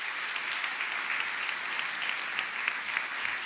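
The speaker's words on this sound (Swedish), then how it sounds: "En stor applåd!" Dense, steady clapping from an audience at a live mentalist stage show, a full room of applause holding at even loudness throughout with no voices over it.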